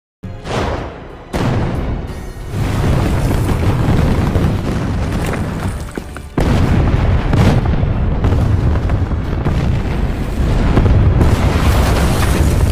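Continuous heavy booms and explosions from German artillery rumble almost without pause, loud and dense like a barrage, with sharper blasts breaking through the roar.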